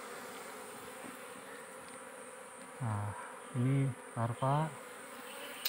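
Wild dorsata forest bees hum faintly and steadily around a small hive being harvested, a soft continuous drone beneath a man's brief speech.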